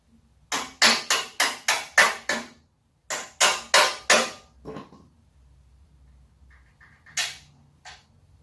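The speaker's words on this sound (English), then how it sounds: "So, just hammer the bolts through." Hammer blows drive bolts through a go-kart live axle: two quick bursts of sharp metallic strikes, six and then four in a steady rhythm, followed by a brief scrape and two more isolated knocks, close and loud.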